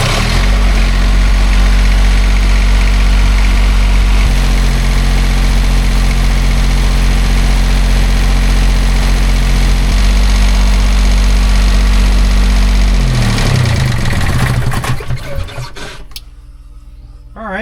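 A Kohler 8EOZ marine generator, just overhauled, runs loud and close with a steady low idling drone and a knocking engine tone, then cuts out and winds down into quiet near the end.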